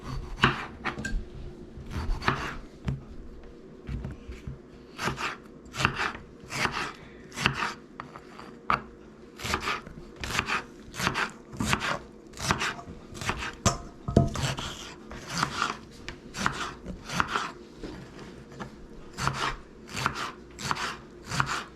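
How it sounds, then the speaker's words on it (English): A kitchen knife slices tomatoes for chicken enchiladas, cutting down onto a board in a steady series of crisp, close chops at a quick, even rhythm that goes on for about twenty seconds, with no talking. "Tomato slicing time."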